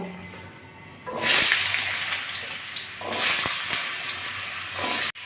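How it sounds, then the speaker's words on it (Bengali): Potatoes drop into hot oil and fry in a loud, close hiss that swells after a second. The sizzle surges again midway with crackling pops, then cuts off sharply near the end. "এখন আমি আলুটা ভেজে নেব"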